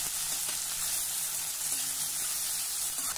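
Sliced onion sautéing in a pan, a steady soft sizzle and crackle of frying that continues evenly throughout with no talking.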